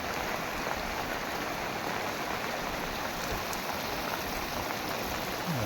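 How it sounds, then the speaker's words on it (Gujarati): Steady heavy rain pouring during a thunderstorm at night, a dense even hiss of drops on surfaces with no voices. "આ વરસાદનો માહોલ છે"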